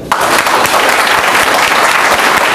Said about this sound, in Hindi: और हमारे कंपनी के मालिक गौतम बाली जी के लिए एक बार जोरदार ताली बजाओ